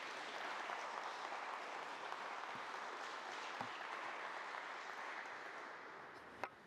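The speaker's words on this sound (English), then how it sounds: "I think that deserves another round of applause" A large audience at a memorial lecture gives a sustained round of applause, an even, somewhat distant roar of clapping that continues without a break.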